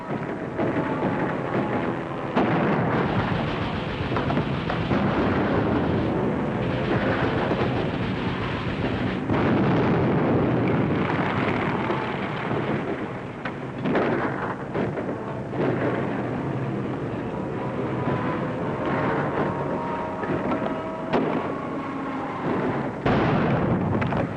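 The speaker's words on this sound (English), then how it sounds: "Give me a hand grenade and stand clear." A hand grenade explosion in a 1941 World War II war film, heard as a loud, sustained rumbling blast with dense low roar that stays heavy throughout, no talk over it.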